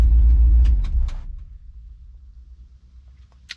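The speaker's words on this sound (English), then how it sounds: "Let's shut her off and see if it'll start again." A 1957 car with FiTech fuel injection being switched off: loud low engine rumble with a few clicks dies away within about a second and a half, leaving a faint quiet tail and a final click.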